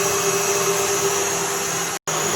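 A stand mixer beats butter for coffee cake in a steady, loud motor whir with a high whine, running continuously apart from one brief cutout near the end.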